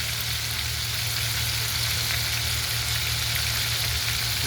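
Chicken fries in hot oil, a second batch bubbling in a loud, dense, continuous sizzle that stays steady throughout with no talk over it.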